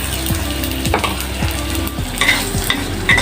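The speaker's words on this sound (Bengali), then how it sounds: "পেঁয়াজ ভাজাটা আমার হালকা হয়ে গেছে" Onions fry in hot oil in a wok, a steady close sizzle with rhythmic scraping stirs at intervals and a few sharp clinks near the end.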